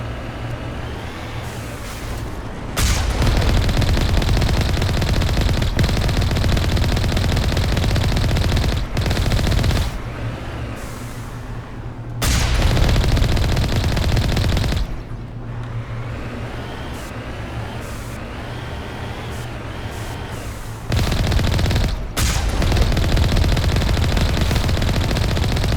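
Mako vehicle cannon fire in Mass Effect, loud sustained booming bursts of gunfire lasting several seconds each, separated by brief quieter gaps, with no talk over it.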